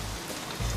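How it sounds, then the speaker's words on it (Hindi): Steady rainfall patters on surfaces during a heavy downpour while waiting for a bus, a dense hiss with a louder low-end thump near the end, no voices. "यहाँ इतनी बरसात हो रही है"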